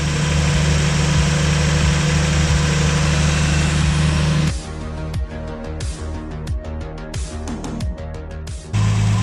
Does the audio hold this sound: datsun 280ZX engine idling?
yes